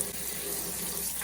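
Hot water gushes steadily from a tap, a close, continuous splashing hiss without pause over the brief moment.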